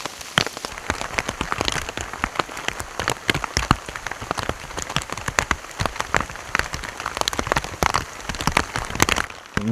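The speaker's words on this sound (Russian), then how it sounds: "Все, град кончился, вроде просто дождь идет." Rain falls steadily in the Alaskan wilderness just after a hailstorm, a dense close patter of drops on surfaces that continues unbroken, with no voices.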